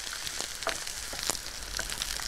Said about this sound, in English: Keep the celery and the carrots sizzling away until they go soft.